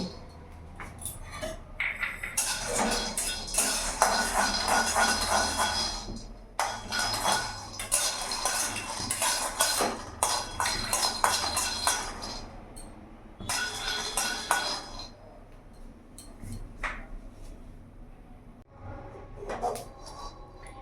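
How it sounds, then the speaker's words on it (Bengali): Peanuts dry-roasting in a hot, dry wok on a gas stove give off repeated scraping and clinking rattles as they are stirred, coming in loud bursts with short pauses between. "চিনে বাদামটা আমি শুকনো কড়াইতে ভেজে নেব"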